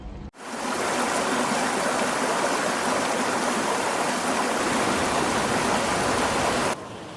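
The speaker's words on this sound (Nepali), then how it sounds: "ल है यो खोला छ अब खोलाबाट सिधै" A river stream rushes near the Düden waterfalls in Antalya, Türkiye, as a loud, dense, unbroken roar of flowing water that begins and ends abruptly. It is close by, with no talking.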